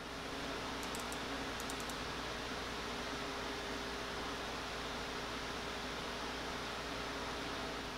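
Two stock CPU coolers with 92 mm fans, an AMD Wraith Prism and an Intel RH1, produce a steady, faint airy whoosh with a low constant hum and a few brief ticks near the start.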